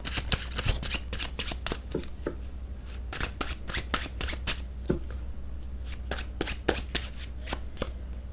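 Tarot cards are shuffled by hand, with repeated crisp riffling bursts and sharp slaps coming in quick uneven clusters. The sound is close and fairly loud, with no talking.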